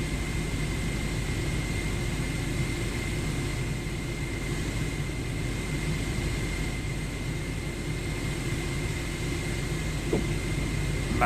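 A steady jet engine whine and broad airliner hum drone on continuously during an aircraft pushback by tug in Microsoft Flight Simulator 2024, even and unbroken, with a faint click near the end.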